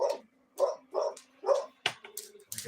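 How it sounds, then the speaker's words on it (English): Alert dogs bark in a quick series of sharp, close, loud woofs at something outside, ending in a few higher yips and whines, with no talking. "I got my alert dogs. Yeah, they see something outside."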